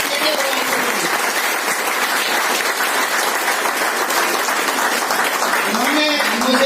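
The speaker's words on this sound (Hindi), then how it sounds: "जोरदार ताली होना चाहिए।" A Boisar, Mumbai audience bursts into loud, dense applause that holds steady and full for several seconds, with scattered voices calling out over the clapping.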